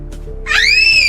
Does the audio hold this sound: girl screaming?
yes